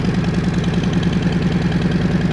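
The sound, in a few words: Harley-Davidson Fat Bob 114 with Cobra El Diablo exhaust idling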